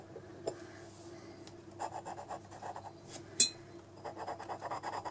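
Dry scratching and rubbing of a drawing tool across paper, soft and close, in irregular bursts of strokes with a brief sharper tap midway; no talking.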